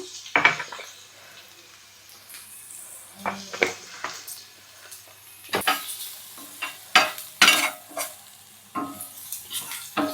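Chili powder and turmeric fry in a pan with salt, a scattered clatter of spoon-on-pan scrapes and taps over a soft, steady sizzle, close and fairly loud with no talk.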